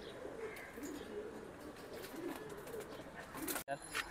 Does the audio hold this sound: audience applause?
no